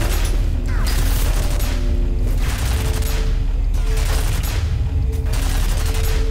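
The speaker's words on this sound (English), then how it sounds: "try those grenades that I have" Grenade blasts and heavy gunfire from the shooter game F.E.A.R. roar in dense, continuous bursts, with several large explosive swells close and loud across the whole stretch and no pause between them.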